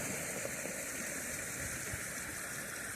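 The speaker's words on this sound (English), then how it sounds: "water flowing out from underneath that snow" A winter creek's water flows out from beneath snow cover on a hike, a faint, steady hiss and trickle with no voices and no pauses.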